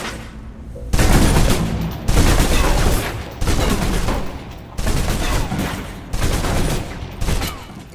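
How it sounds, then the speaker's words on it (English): Submachine gun emptied in the Alpha Protocol video game: five loud sustained bursts of rapid automatic fire, each roughly a second long, separated by short gaps, close and dominant with no talking. "Now, let's move on to the submachine gun. Absolutely. Now let's empty the clip."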